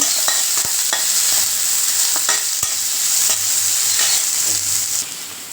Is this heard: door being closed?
no